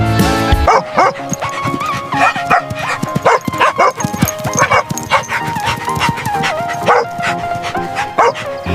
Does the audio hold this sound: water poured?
no